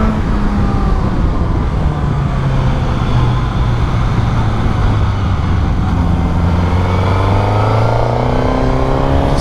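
Suzuki GSX-S 1000 motorcycle engine revving up steadily and loudly, a continuous close engine note with rising pitch sweeps, alone with no voices.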